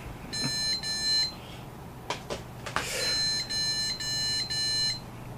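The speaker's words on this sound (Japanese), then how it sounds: "ピーピーピーピー2回と4回で、一応正常起動時のピッという音は鳴る" PC motherboard beep codes after a failed BIOS update on a BIOSTAR board: groups of sharp high beeps repeated in a pattern, clear and close over a faint fan hiss, with a few clicks in between.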